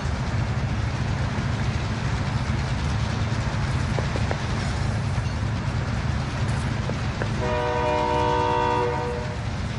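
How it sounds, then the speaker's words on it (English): A train rumbles past continuously in a video game, a loud, steady rolling roar with rhythmic clatter, and a long blaring horn near the end. "Use the train as cover."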